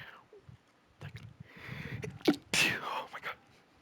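A single sneeze from a person in a quiet indoor setting, a short sharp burst amid soft breathing and faint movement, with people talking nearby.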